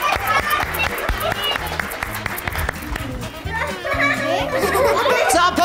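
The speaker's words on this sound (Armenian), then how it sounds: "Ծափարենք։" Audience clapping rises and falls for several seconds on a children's after-school TV show, blended with a pulsing music backing track and some excited crowd noise.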